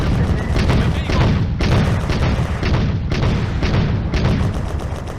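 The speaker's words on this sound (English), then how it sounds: "The BT-7 cooks off." A BT-7 tank's ammunition cooks off in a World War II Eastern Front battle game, a loud, dense rolling barrage of bursts and booms filling the whole stretch without a break.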